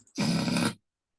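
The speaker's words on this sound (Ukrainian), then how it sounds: "Це повітряна кулька має такий звук, коли її так надувають." A balloon being inflated: a steady, breathy whooshing rush of air lasting under a second, with a buzzy low undertone, then silence.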